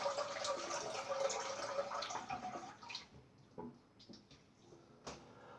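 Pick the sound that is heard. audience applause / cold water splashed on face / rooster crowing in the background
cold water splashed on face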